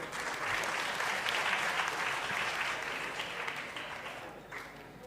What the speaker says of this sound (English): the applause can be louder